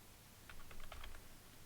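Quick light keystrokes on a computer keyboard, a short burst of soft clicks in a quiet room.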